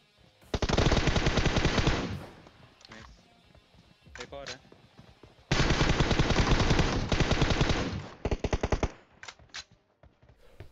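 Long bursts of rapid automatic gunfire in PUBG Mobile crackle loudly, broken by short pauses and scattered single shots, with a voice talking underneath.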